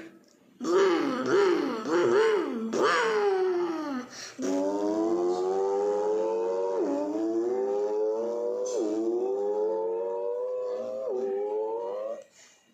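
A human voice mimics a racing bike, starting with a few short revving bursts, then holding a long, close, buzzing engine drone that repeatedly climbs in pitch and drops back, like gear changes, before cutting off.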